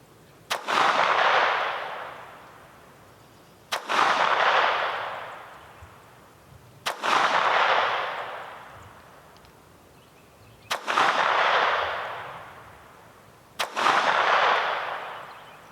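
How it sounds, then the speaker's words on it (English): Five sharp .22 pistol shots from a Phoenix Arms HP22A firing CCI Mini-Mag rounds at a target ten yards off, spaced about three seconds apart, each a loud crack followed by a long decaying echo, with no talking. "We're going to take 5 shots at this target 10 yards away."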